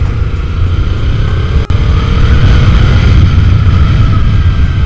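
A stock, unrestricted Kawasaki Ninja 300 parallel-twin motorcycle holds a loud, steady engine and exhaust drone, with one brief dip partway through.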